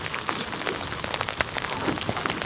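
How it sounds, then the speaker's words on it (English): Heavy rain pelts a small fishing boat off the Isle of Wight, a dense patter of close drops hitting the surfaces around it, steady and loud with no voices. "Yeah, there's loads more rain coming."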